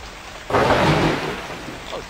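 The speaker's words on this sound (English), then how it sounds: "Oh, it's raining." Rain starts falling in the farming video game Kingdoms, a steady broadband hiss that swells in suddenly and then softens slightly, with faint tonal game sounds near the end.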